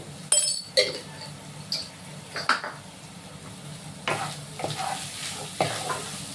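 Garam masala is stirred into hot ghee in a pan of banana-stem ghonto, with a low sizzle under repeated sharp clinks and scrapes of a spoon against the pan.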